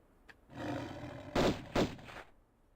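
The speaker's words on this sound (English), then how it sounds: "That sounds distinctly like multiple roars." Lions roar in the video game Tomb Raider, one long growling roar followed by two short, loud bursts, heard alone and moderately close.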